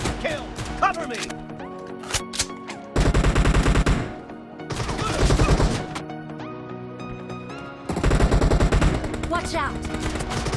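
Gunfire from the mobile battle game PUBG Mobile, with pistols in a team deathmatch, crackles in repeated rapid bursts and pauses, loud and close, mixed with game voice callouts.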